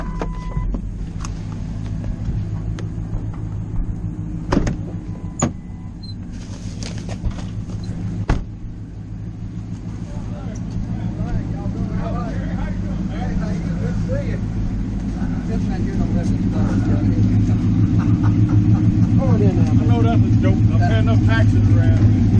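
A boxy, square-shaped Toyota car drives nearby, its low engine rumble steadily building louder toward the end amid street noise, while people talk over it.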